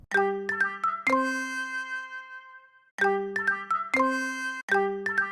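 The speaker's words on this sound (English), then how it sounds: "got another phone call" A phone ringtone for an incoming call plays a bright, melodic chime pattern, repeating in two clear bursts with a pause between, loud and close with no talk over it.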